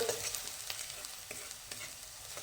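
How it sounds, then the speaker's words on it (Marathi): Onion puree fries in a pan for Punjabi chole while it is stirred. There is a soft, continuous sizzle with repeated faint scraping strokes, quiet and close. "प्युरी झटकन भाजली जाते कांदा चांगला भाजलेला आहे"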